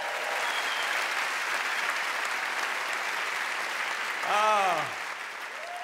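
Steady audience applause fills a comedy show at Montreux, continuous and fairly loud throughout, with a brief spoken exclamation near the end.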